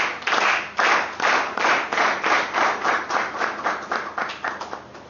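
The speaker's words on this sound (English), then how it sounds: "I believe you deserve a wonderful JCI clap for that" A meeting audience of JCI members gives a rhythmic group clap, about a dozen strong, evenly spaced bursts that gradually quicken and fade over several seconds, close and loud.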